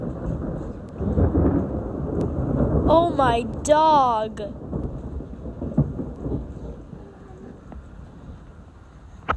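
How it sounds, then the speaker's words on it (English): Thunder during a storm, a long low rumbling boom rolling on for several seconds with rain and wind noise, while a person exclaims and talks over it. "That was the longest lightning boom."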